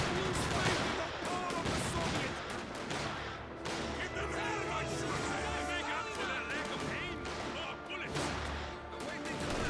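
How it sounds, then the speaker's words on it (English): MG42 machine gun fire in a Company of Heroes 2 match, dense bursts and battle noise running continuously under an ongoing voice. "Rifle Squad 4 does find the MG42, immediately getting suppressed there."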